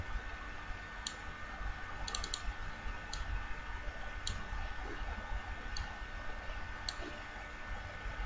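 A computer mouse clicks faintly as a CorelDRAW drawing is edited, with sparse, isolated taps, some in quick pairs, over a steady low room hum.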